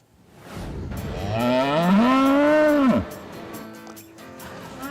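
A single loud, drawn-out cow moo rising and falling close by at the Manitoba Ag Ex all-breeds cattle show in Brandon, followed by quieter barn background noise.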